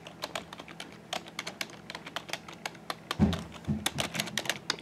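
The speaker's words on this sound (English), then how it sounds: "I'm just typing random characters." Rapid, irregular clicking of keys on a wireless keyboard paired with a smartphone, crisp close taps with a few heavier thumps near the end, no talk.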